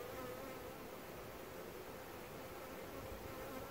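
Honey bees buzz around an open beehive as a continuous, even drone, faint but steady throughout with no other sounds.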